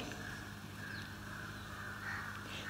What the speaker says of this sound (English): listen, listen to those birds